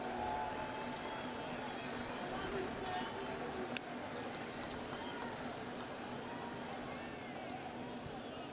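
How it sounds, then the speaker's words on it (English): Baseball crowd at Fenway Park jeering a batter: a continuous, broad roar of many voices that holds steady throughout, with one brief sharp accent partway through. "And the crowd letting him hear it here at Fenway."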